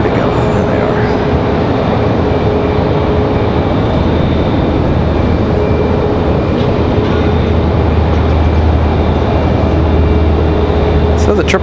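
A Boeing 777 from London flying downwind near Raleigh-Durham International Airport, heard as a loud, continuous jet roar that holds steady throughout.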